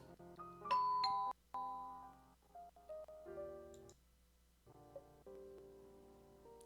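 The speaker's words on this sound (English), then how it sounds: "she rings the doorbell. The rhythmic and mechanical sound clangs for 10 whole seconds" A doorbell rings in the Tears of Themis video game, a rhythmic mechanical chime with clanging tones that stop and start over several seconds, clear and alone against a quiet background.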